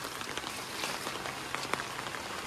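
Heavy rain drums steadily on a hard surface, a dense continuous patter with a few sharper drops standing out, and no voices.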